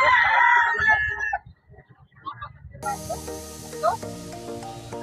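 A Bulik Allen Roundhead gamefowl rooster at a gamefowl expo booth lets out a single fairly close crow at the start, then fades into background music and murmuring voices.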